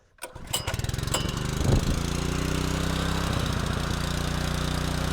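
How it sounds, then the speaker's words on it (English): A small engine, likely a pressure washer engine used for deck scrubbing, starts with a few pulls and catches, then settles into a steady, loud idle with a rapid even chug. "we're going to let that run for a minute to get the engine warmed up"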